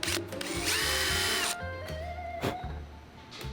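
A power drill bores into a motorcycle fender for mounting an LED license plate, the motor whining loudly in a sustained run, then easing into a lower, lighter whir with brief bursts near the end.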